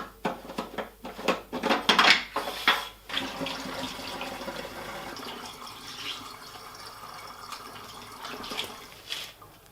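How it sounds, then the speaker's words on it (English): Distilled water pours into the chiller of a Monport 60W CO2 laser, splashing unevenly at first and then settling into a steady, softer trickle as the tank fills. "I'm going to fill the chiller with distilled water like it says."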